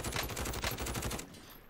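Rapid automatic gunfire in a video game, a dense burst of loud, close shots that rattles on for about a second before cutting off into quieter game ambience.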